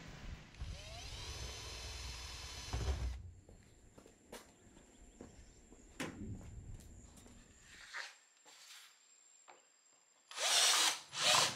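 A power drill bores holes in metal mesh grille parts for a DIY compost bin. A sustained whine runs for about three seconds, followed by scattered taps and handling noises, then a louder final burst of drilling.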